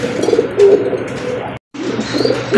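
A pair of GNS pigeons coo in soft, repeated low calls close by, with a brief silent break partway through and no talking.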